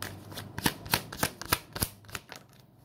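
Tarot cards are shuffled by hand up close in a quick, even riffle of about eight crisp flicks, with nothing else heard.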